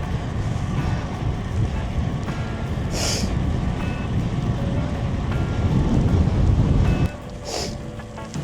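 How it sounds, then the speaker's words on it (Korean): Strong wind roars against a rider's microphone on a cold winter motorcycle ride to Busan, a loud continuous blustery rumble that surges and eases, with faint high tones and brief rattles in the background. "아 바람."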